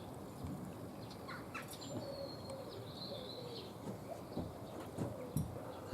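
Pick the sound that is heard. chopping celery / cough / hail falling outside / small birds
small birds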